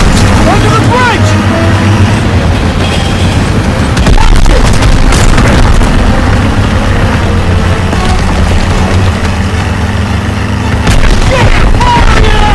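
Booming explosions and gunfire in Call of Duty WWII during a vehicle chase. The rumble is loud and continuous, with sharp blasts throughout and shouting voices mixed in.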